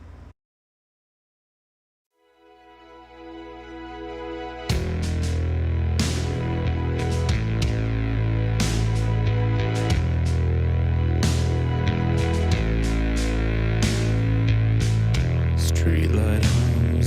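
A soft synth pad fades in, then a full rock band with driving guitars and drums kicks in loudly and keeps playing steadily.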